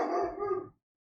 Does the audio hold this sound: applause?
no